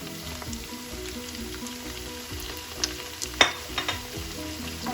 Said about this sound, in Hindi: और इन मसालों के साथ इसको अच्छी तरह से भून लेंगे।